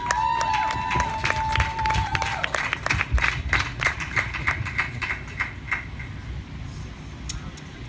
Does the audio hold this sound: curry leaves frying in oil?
no